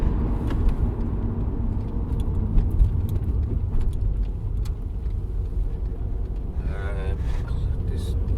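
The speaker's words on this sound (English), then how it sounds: "Clutch down, engine's just over speeding now." Diesel engine of a 2007 VW Golf GT TDI (BKD) held at steady revs with the clutch down, giving a constant low droning vibration hum heard from inside the car while it drives on.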